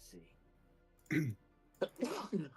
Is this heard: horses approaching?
no